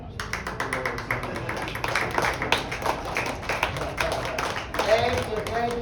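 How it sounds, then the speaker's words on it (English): Audience clapping during a live show, a rapid stream of individual claps close by with voices murmuring underneath. "Give her a round of applause"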